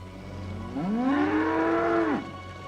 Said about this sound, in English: They're just cows.